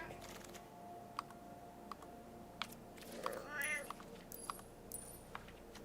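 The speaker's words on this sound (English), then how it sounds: "The meow yawn?" A cat lets out a drawn-out yawning meow in a quiet room, with scattered sharp clicks and taps before and after it.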